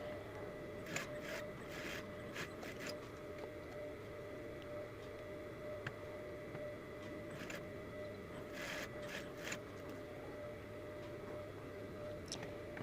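A sewing machine stitches the front facing bodice pieces of a corset milkmaid summer dress, a steady whirring hum broken by short bursts of clicking and rattling as the fabric is fed through.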